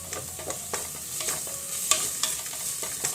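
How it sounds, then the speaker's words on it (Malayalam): Green chillies and ginger-garlic paste sauté in a pan for an egg curry, a continuous close sizzle broken by repeated scraping strokes of a spoon stirring the mixture. "ഇനി ഇതെല്ലാം കൂടി നന്നായിട്ടൊന്ന് വഴറ്റി കൊടുക്കാം"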